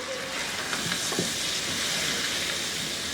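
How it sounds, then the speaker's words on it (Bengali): Chicken and spices frying in a pan for a coriander chicken dish made with coriander seeds and leaves, a steady broad sizzle running throughout with a few faint stirring knocks, close and alone without talk. "এখন এর সাথে একটু ভেজে নিব এটাকে"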